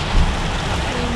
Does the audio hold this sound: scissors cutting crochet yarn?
no